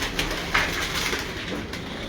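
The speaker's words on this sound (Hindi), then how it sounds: "उस फीमेल का बेबी पिजन है ये" Baby pigeon at a pigeon keeper's loft cooing softly amid steady background noise, a couple of short coo-like bursts rising over a constant hum.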